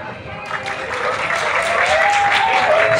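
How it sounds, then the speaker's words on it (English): An audience at an international film festival claps during a live song performance, steady applause building slightly in loudness, with voices and a sustained singing tone running through it. "We need clap."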